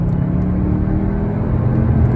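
Cupra Formentor 310 VZ2 accelerating hard from 40 to 60 mph on a carriageway, a steady loud engine rumble and whir heard from inside the car, no talk.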